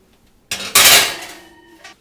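A metal cookie sheet of lime basil slides into an oven set to 170, a scrape followed by a loud clattering clunk that fades, then a faint tap.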